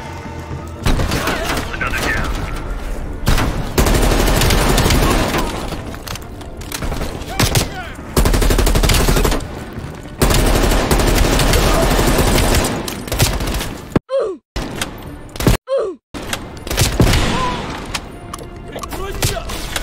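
Heavy gunfire fills a Call of Duty Black Ops Cold War mission, loud continuous automatic bursts and booming shots that drop out into brief gaps near the end, with voices mixed in.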